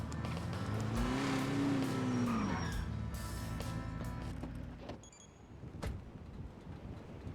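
A car engine drones and rises in pitch as it accelerates in a NoPixel GTA V roleplay driving scene, with a brief tire squeal mixed in before the sound fades into quieter road noise.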